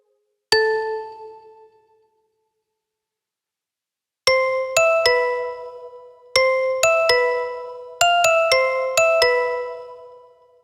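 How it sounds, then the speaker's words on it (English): Synthesized bell notes from the Serum synthesizer: a single bright ringing strike that decays, then a melodic run of quick, clear bell tones in a rhythmic pattern, played alone and up close. "We'll use a bell sound from Serum to create a layer for our melody."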